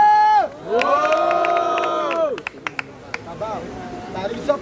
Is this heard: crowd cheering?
yes